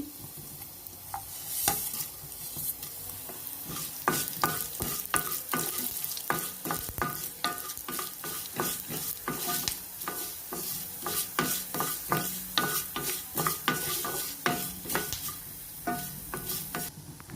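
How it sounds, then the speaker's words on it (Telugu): Urad dal, coriander seeds and fenugreek seeds dry-roasting in a pan for a Malabar spinach chutney: a steady, close crackling sizzle broken by frequent sharp scrapes and clicks of a spoon stirring the pan. "ధనియాలు, మెంతులు కూడా వేసేస్తున్నానండి. మొత్తం కలిపి ఒకటేసారి వేగుతాయి."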